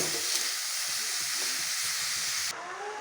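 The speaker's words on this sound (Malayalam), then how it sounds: "ചട്ടി ഒരു കൈ കൊണ്ട് പിടിച്ച് നല്ലപോലെ ഒന്ന് മിക്സ് ചെയ്തെടുക്കട്ടെ കേട്ടോ ഇളക്കട്ടെ" Food in a chatti held by one hand and stirred, with a loud continuous sizzle and rough scraping strokes that cut off abruptly near the end, leaving a quieter background; no talking.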